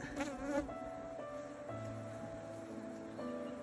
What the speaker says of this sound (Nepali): एकदम स्ट्रङ छ मौरी। म नहोला त कुरो छुट्टै हो मौरी स्ट्रङै छ एकदम।